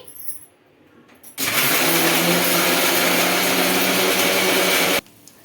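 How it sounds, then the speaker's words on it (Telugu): A mixer grinder kicks in abruptly and grinds chutney of dal, salt and coriander leaves, holding a loud, steady whirring roar for about three and a half seconds before cutting off sharply. "కొద్దిగా కొత్తిమీర వేసుకొని గ్రైండ్ చేసుకోవాలండి"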